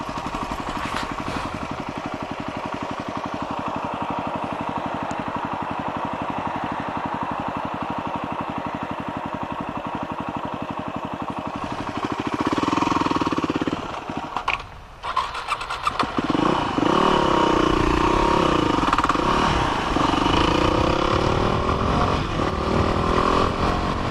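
A motocross race bike's engine runs loud and close, first a steady buzzing idle, then a harsher surge of revving with a brief drop before roaring on.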